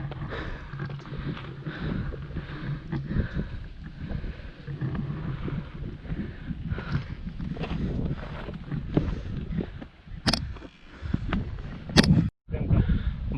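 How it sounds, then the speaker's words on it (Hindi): A cold early-morning wind blows across the rocky Makalidurga hills, a continuous rough rushing that buffets the microphone. Stronger gusts bring brief sharp peaks near the end. "ठंडी हवा चल रही है मकाली दुर्ग के इन पहाड़ों में"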